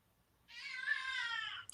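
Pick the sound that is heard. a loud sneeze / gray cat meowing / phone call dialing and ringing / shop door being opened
gray cat meowing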